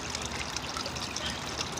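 Water trickles steadily from small waterfalls into a landscaped garden pond, a continuous close splashing wash without breaks or voices.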